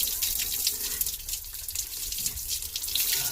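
Tap water pours steadily into a container, a close, continuous hissing gush that flickers slightly in strength throughout.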